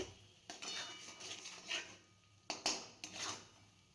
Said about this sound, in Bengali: তো ভালো মতো এখানে চিনিটা না গলা পর্যন্ত নাড়িয়ে নিতে হবে ভালো মতো